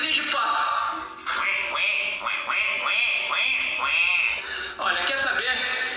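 Duck quacking from a small video playing nearby, a steady run of repeated nasal quacks clustered through the middle, with brief speech-like sounds mixed in.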